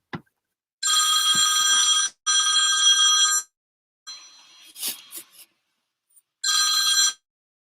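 A telephone bell rings in four bursts, each lasting over a second, separated by short pauses. The rings are bright and close by, with faint background noise between them.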